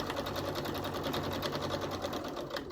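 A domestic sewing machine runs steadily while quilting a UFO project, its rapid needle stroke forming a fast, even rhythmic whir that holds close and constant throughout without pause.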